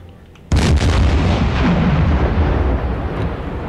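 A ship explodes in the submarine game Silent Hunter IV: after half a second of quiet, a sudden loud blast bursts in and rolls into a long, heavy rumbling roar that holds for several seconds.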